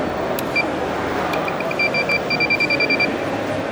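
A Profoto Pro B4 flash pack gives its recharge-ready signal, a quick run of short, evenly spaced high beeps following a flash, close and clear over steady background noise.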